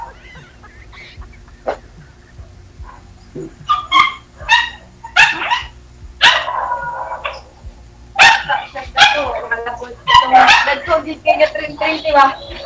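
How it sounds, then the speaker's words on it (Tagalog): A dog barks repeatedly in loud, sharp bursts with some yips, while people talk in the background. "Maingay po yung aso, pasuyo."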